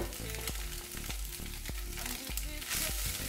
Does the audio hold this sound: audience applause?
no